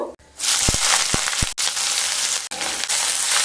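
Chopped onion going into hot oil sets off a loud, steady sizzle that swells right after it starts and keeps crackling up close, with a few brief dips in the roar.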